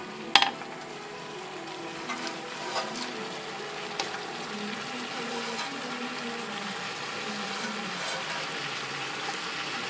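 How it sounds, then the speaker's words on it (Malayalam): Gentle sizzling and bubbling as fried prawns are added to boiling gravy in a pan, steady and fairly quiet, with a brief clatter near the start and occasional light knocks. "ഒന്ന് തിളച്ച് വരുമ്പോൾ അതിലേക്ക് ഫ്രൈ ചെയ്ത് വെച്ച ചെമ്മീൻ ചേർത്ത് കൊടുക്കുക"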